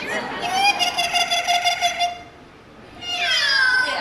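A high, nasal voice gives a drawn-out meow-like call, pauses, then repeats it, a parrot imitating a cat up close with no talking.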